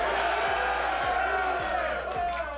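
A crowd cheers loudly and continuously for Grayson, a steady wall of whoops and shouting voices with a few low thumps underneath.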